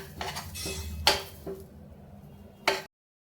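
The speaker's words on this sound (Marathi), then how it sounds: "ही मी कोरडीच भाजून घेत आहे" Flaxseed dry-roasting in a metal kadhai, a spatula scraping and tapping against the pan in a few clinks and knocks with soft rustling between them, fairly quiet and without talk.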